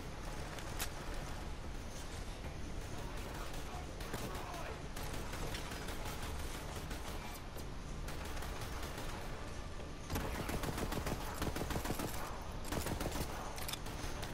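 Pistol gunfire in Borderlands 3 during a firefight, with dense rapid shots crackling continuously over busy game noise and an intensifying burst near the end, with speech faintly mixed in.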